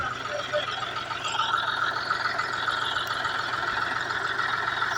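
A tractor engine drones steadily throughout, a continuous mid-pitched rumble with a faint whine on top and no pauses.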